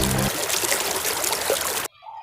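Water splashes and pours over a toy Hulk figure being washed, a loud continuous rushing splatter that stops abruptly near the end, leaving a faint tone.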